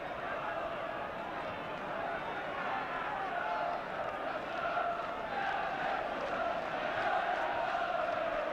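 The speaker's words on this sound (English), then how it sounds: "The crowd willing this goal." Broadcast football crowd at a Newcastle United v Brighton match, a steady dense roar of thousands of spectators filling the stadium throughout, rising slightly toward the end with eager swells.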